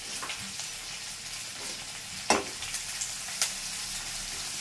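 Onions and curry leaves sauté in a hot pan for a curry, giving a steady close sizzle with a few sharp stirring clicks and scrapes, and no one speaking.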